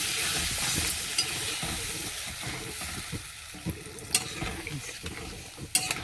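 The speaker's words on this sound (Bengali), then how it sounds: "বেশি জল দেবো না, একটু মাখা মাখা হবে, অল্প একটু জল দিয়ে দিচ্ছি।" Spiced potato masala for aloo dum fries in a pan with a small splash of water, giving a steady hiss and sizzle marked by occasional stirring scrapes and clicks, close and alone.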